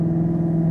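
A Maserati engine under load as the car accelerates and searches for traction, a loud, steady low drone with a strong sustained hum held close for under a second.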